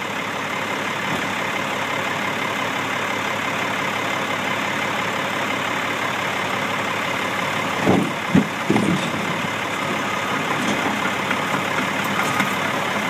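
A heavy diesel excavator runs at a steady low rumble while unloading a truck, with a few louder hydraulic and clanking bursts partway through, then the drone resumes.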